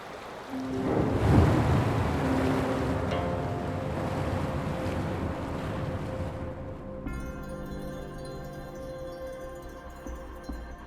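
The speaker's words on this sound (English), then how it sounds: "The water level just dropped again." In the game Wuthering Waves, the water level drops with a broad rushing, surging wash that is loud at first and gradually thins out. A steady musical drone takes over for the final few seconds.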